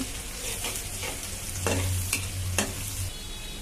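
Chopped onion frying in a tempering of hot oil for a jute-leaf dish, with a steady close sizzle and a spoon scraping and stirring through it in short strokes.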